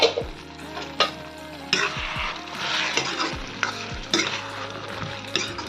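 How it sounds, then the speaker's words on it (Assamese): Taro leaves, chickpeas and potatoes are stirred in a frying pan, with a steady close sizzle broken by repeated scraping strokes of a spoon against the pan. No one speaks. "এয়া ভালদৰে সিজা নাই বাৰু, আৰু অলপ ভাজিব লাগিব"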